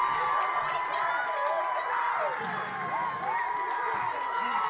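Crowd at a Concordia Chicago college baseball regional game on a Sunday morning cheers steadily after a two-run home run, a broad, sustained roar of voices with shouts mixed in throughout.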